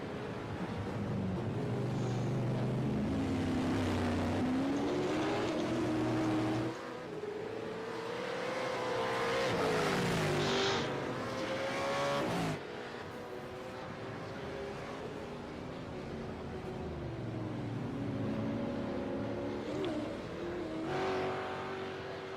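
Race car engines in the iRacing sim during a hotlap session: a continuous, loud engine drone that rises and falls in pitch through acceleration and gear shifts, with a sharp break where the revs drop and climb again.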